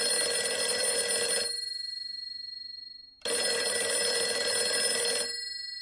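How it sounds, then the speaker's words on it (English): Telephone ringing nearby in two long electronic rings separated by a pause of about two seconds, clear and alone with no voices. "the phone rings"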